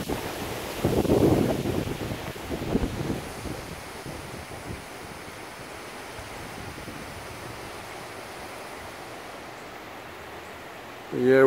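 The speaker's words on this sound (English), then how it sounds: "we're getting hit harder by this tropical storm than we did by Hurricane Ian" Storm wind from Tropical Storm Nicole sweeping through a Florida yard, a steady roaring rush with stronger gusts and buffeting on the microphone early on, then a lower continuous whoosh that swells again at the end.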